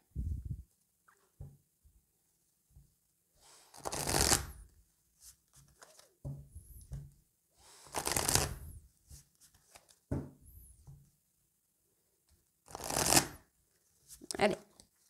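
Oracle cards are shuffled in several short, close riffling bursts separated by quiet gaps, with brief soft speech between some of the shuffles.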